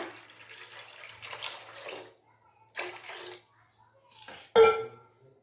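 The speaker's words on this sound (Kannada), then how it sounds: "ಈಗ ಸ್ವಲ್ಪ ನೀರು ಹಾಕೊಂಬಿಡೋಣ" Water is poured into a mixer jar in a few short bursts separated by silences, followed by a sharp clink of the jar, close by.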